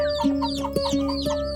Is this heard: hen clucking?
yes